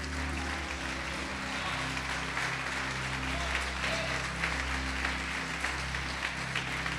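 A church congregation applauds steadily and loudly throughout, a dense wash of clapping over a sustained background hum.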